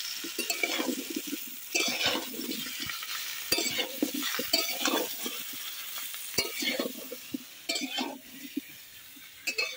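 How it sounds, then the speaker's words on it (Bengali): Boiled young jackfruit and potato pieces fry in oil in a kadai, a close, steady sizzle broken by repeated stirring scrapes and occasional metallic clinks of a spatula against the pan. "ওই তেলের মধ্যে আমি সেদ্ধ করে রাখা এঁচড় ও আলুগুলোকে দিয়ে ভালো করে ভেজে নেব।"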